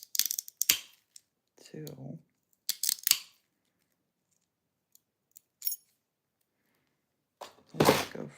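Yellow glass being cut in a glass studio in an old church: a few sharp scoring scratches and snaps with clicks and a thunk, separated by quiet gaps, and a brief voice.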